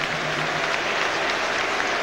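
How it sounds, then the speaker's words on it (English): A football crowd applauding Wayne Rooney's substitution in an England versus Turkey match, a steady roar of clapping and cheering filling the stadium at a constant loud level. "All around me, people are standing up to applaud him."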